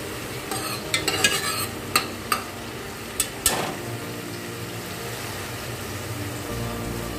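Ginger, tomato and green chilli fry in a pan for a Bengali mutton curry. A soft, continuous sizzle runs under a cluster of sharp spoon scrapes and clinks from stirring, and the frying continues quietly after the stirring stops.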